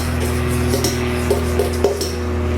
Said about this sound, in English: I guess I'm gonna mix and taste